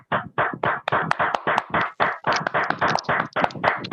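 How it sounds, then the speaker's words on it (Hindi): A small group claps in quick, uneven bursts, several hands close by, lasting a few seconds with no talking. "सब लोग इसके लिए वेलकम ताली कीजिए।"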